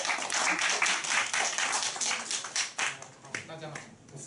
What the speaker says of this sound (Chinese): 我们热烈掌声欢迎燕杰